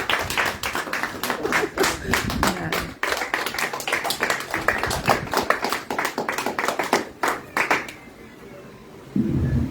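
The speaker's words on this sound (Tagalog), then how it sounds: "Sige, palakpak pa." A church congregation at a Christian fellowship service claps in sharp, distinct, closely spaced strokes for about eight seconds, then the clapping stops and a faint murmur remains.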